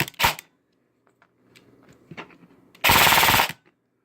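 An airsoft XM8 LPEG rifle test-fires after a nozzle, trigger switch and selector plate swap: a short close burst, faint mechanical clicks, then a longer sustained full-auto burst, loud and alone.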